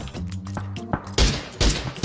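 Bursts of gunfire in a Korean competitive shooter match, a rapid fusillade of shots with heavy thumps, loud and close, with no talk over it.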